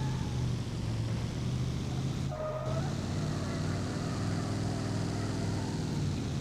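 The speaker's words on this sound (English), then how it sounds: "I'm sure people might be interested in hearing what a straight 8 hearse goes and sounds like" Straight-eight engine of a 1950s-style hearse in a BeamNG driving game, a steady low rumbling drone with a brief dip in the middle, moderately loud and continuous.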